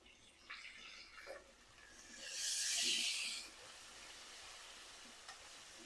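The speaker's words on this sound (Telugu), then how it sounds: "ఇప్పుడు దీంట్లో పుదీనా వేసుకొని ఫ్రై చేసుకోవాలి." Mint leaves fry with onions in a pan, a soft, distant sizzle swelling into one louder hissing burst midway, with a few faint stirring knocks.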